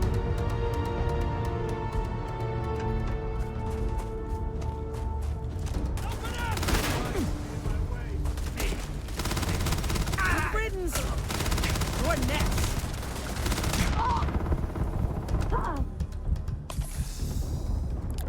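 Dense gunfire from several weapons rattles through a chaotic firefight in the video game Starfield, with rapid bursts, booming impacts and a constant roar of combat throughout.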